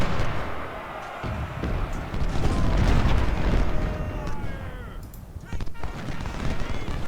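Battle gunfire in the Ultimate General: Civil War game, a dense, continuous crackle of musketry and booming artillery that roars loudly throughout, with a voice speaking over the din.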